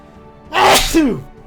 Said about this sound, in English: where is this sneezing coming from?